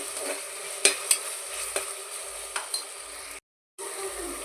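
Ginger and garlic frying in a pan while being stirred for chicken biryani, a soft steady sizzle broken by light scraping clicks from the stirring, close and quiet, with a short silent gap near the end.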